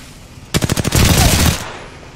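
Automatic gunfire in the Apex Legends video game: a rapid burst of about seven loud, close shots followed by a sustained roar of fire, lasting about a second.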